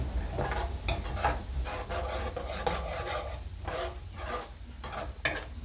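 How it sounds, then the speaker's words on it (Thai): Repeated scraping and rasping of a utensil stir-frying Thai curry paste in a hot pan, with a soft sizzle underneath and no voices. "ผัดเครื่องแกงไปเลยให้หอมใส่น้ำกะทิ"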